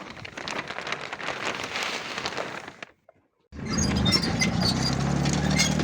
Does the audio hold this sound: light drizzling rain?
yes